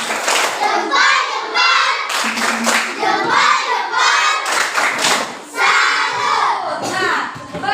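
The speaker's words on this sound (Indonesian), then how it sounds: "Semua dulu, tepuk salut untuk kita semua." Schoolchildren in a classroom doing a rhythmic 'tepuk salut' clapping chant, loud patterned claps and thumps mixed with children's chanting voices close by.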